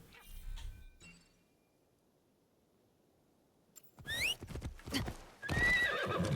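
Hooves clip-clop from a horse in the video game Assassin's Creed Shadows, with shrill whinnies and neighs, coming in loud after a near-silent stretch with a faint clatter at the start.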